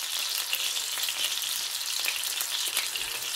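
Old-fashioned cheeseburgers fry in a pan with a soft, even sizzling hiss that runs steadily without pauses, close by and fairly quiet, with no talking.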